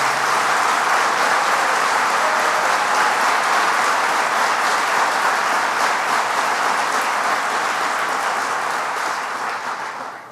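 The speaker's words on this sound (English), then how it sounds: "Let's give him a round of applause." Dense, steady applause from an audience at a governor's jobs announcement for Hill-Rom Holdings, a loud continuous wash of clapping that holds for about ten seconds before beginning to fade at the end, with no talking over it.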